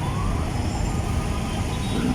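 An ambulance siren wails steadily through loud, dense street and traffic noise at an accident scene near a footbridge, with no one talking.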